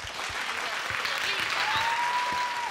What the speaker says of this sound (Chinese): 来，掌声欢迎来。